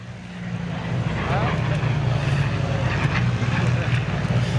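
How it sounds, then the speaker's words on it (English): A Hawker Hurricane propeller fighter making another low pass: a broad, steady engine drone, fairly close and building slightly, heard beneath continuous talk by a commentator. "Coming back for another pass, the Hurricane."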